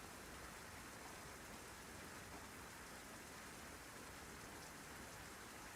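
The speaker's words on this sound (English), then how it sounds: "Rain kept pouring down." Rain pours down steadily in the video game Honkai Impact, a soft, even hiss of falling water that holds constant throughout and is heard alone.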